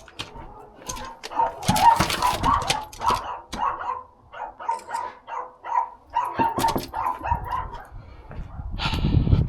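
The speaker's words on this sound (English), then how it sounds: "Look at the dog." A dog barks repeatedly at a house in Ballycolman, County Tyrone, a run of loud, close barks in quick bursts with a few whimpering yips among them.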